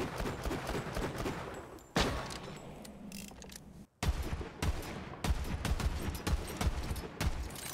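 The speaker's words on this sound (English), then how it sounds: "The guns have so much punch compared to older titles." Punchy gunfire from weapons in Borderlands 3, loud rapid shots in clustered volleys separated by brief pauses and one abrupt cut to near silence, close and forceful.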